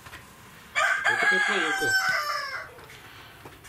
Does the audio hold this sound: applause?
no